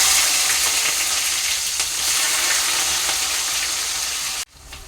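Chopped onions sizzle loudly in a hot pan, a dense, steady frying hiss that runs close and unbroken before cutting off abruptly near the end.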